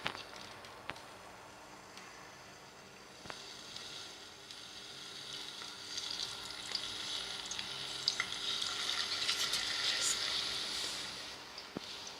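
Potato slices for chip-style fried potatoes sizzle and crackle in hot oil in a frying pan, a steady hiss that grows louder and denser as more slices go in, with a few sharp pops.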